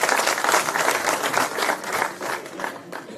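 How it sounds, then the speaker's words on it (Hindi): A crowd at a political village rally in Haryana claps loudly and continuously, a dense, sustained wave of applause filling the whole stretch. "एक बार जोरदार ताली के साथ"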